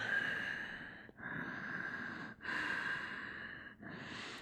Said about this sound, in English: holding in that Warrior 2, breath nice and strong